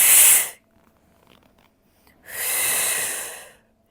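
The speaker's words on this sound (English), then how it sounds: "breathing out as you draw your chest up" Two strong, airy exhalations during a Pilates reformer exercise, close to the mic, the first short and the second longer, separated by near silence.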